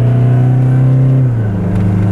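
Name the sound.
Toyota Hilux diesel pickup engine revving, accelerating hard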